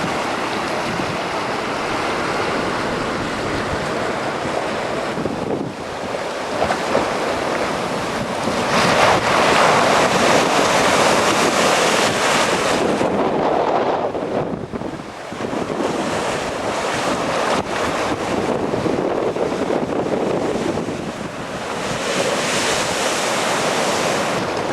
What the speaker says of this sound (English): The wave action was tremendous.